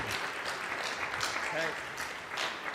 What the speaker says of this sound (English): Big applause to the president of Grupo Segura and president of ABIA, Francisco Segura.